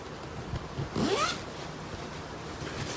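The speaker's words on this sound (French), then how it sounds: "c'est zippé. Fermeture éclair. Et je vais juste les fermer aussi." A zipper on a bag being pulled closed: one quick, bright zip lasting under half a second, close to the mic, set against quiet room noise.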